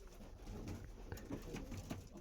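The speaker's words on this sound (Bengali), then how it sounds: "টপ কোয়ালিটির লাম্বাডি পায়রা" Lambadi pigeons coo softly in low, rolling murmurs, faint and close, with a few brief clicks, no talk.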